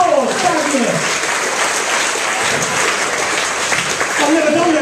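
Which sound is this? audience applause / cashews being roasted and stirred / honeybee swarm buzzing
audience applause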